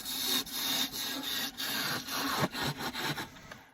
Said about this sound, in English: Part it off and put it in the chuck.